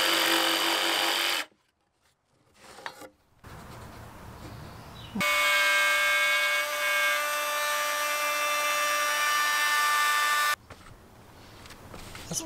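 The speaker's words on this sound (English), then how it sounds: "Want to just do a little cutout for the bolt" A power tool cuts a small notch for a bolt during a plant-based food trailer build, whining in two loud sustained bursts of steady tone, the second longer, with quiet pauses and fainter handling noise in between.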